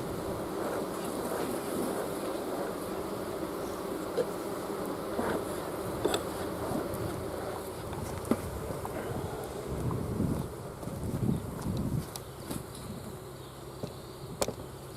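Honey bees swarm around an opened hive in a continuous, close buzzing drone, with scattered louder passes of individual bees and occasional light knocks, no speech.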